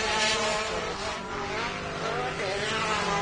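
An off-road Pro Buggy race car with an exhaust leak roars steadily and loudly at full throttle on a short-course track, with a raspy, continuous engine drone.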